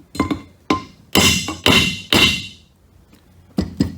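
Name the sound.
hammer tapping on rear differential part, listening for pitch change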